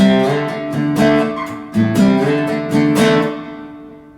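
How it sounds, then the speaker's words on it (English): Electric guitar power chords strummed and slid upward in pitch to a D5, several strikes ringing out with a lingering reverb tail, loud and close. "And you're going to do the same sort of slide up to a D 5th"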